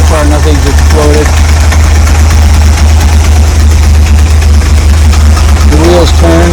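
A Willys Wagon engine idles close by, loud and steady, with a persistent low rumble and rapid clacking through it as a voice speaks over it in short bursts.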